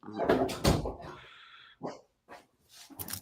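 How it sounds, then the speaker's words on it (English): Dogs at home whimper and give a few short barks and yips, fairly faint and intermittent, mixed with someone speaking nearby. "I got a couple dogs."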